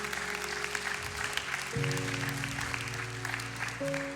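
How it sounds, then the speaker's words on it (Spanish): Applause rises from a church congregation during a sermon, the clapping moderately loud and continuous, over sustained keyboard chords that change partway through. "Denle un fuerte aplauso a Dios."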